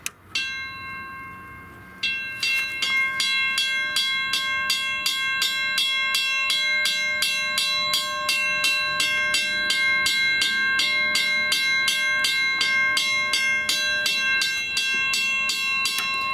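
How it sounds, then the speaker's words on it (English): A mechanical railroad crossing signal bell on a battery that has lost some charge starts with a brief hesitant ring, then settles into a loud, steady, rapid clanging that continues without pause. "As you can hear by the struggling that the bell makes when starting up, the battery has lost a bit of charge."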